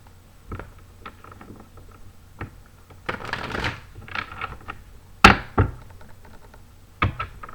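Tarot cards being shuffled in short riffling bursts and soft taps, close by, separated by quiet pauses.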